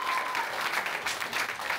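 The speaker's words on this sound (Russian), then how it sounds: "Аплодисменты" A crowd applauding steadily, a dense wash of clapping that holds at an even level throughout with no voices on top.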